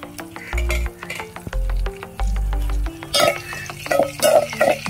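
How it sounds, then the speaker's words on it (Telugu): Cumin seeds sizzling in hot oil for a village-style papaya curry: crackling spits and pops over a low droning hum, with bursts of louder crackle toward the end, close by. "జీలకర్ర వేసుకోవాలి"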